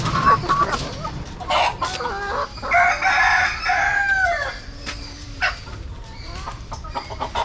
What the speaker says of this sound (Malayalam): ചാര പൂവനാണ് ഫുൾ ചാര വൈറ്റ് മിക്സ് വരുന്ന ഒരു നെക്ക് നെക്ക് പൂവനാണ്